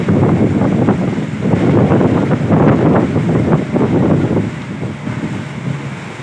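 Big sea waves and strong wind batter a boat on a trip off El Nido, Palawan, a loud rushing roar with surging swells and heavy microphone wind buffeting throughout.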